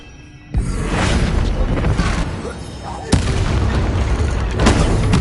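The Incendio fire spell erupts in Hogwarts Legacy as a loud, close roaring blast that starts abruptly and holds as a dense rumble, with a second sharp burst partway through.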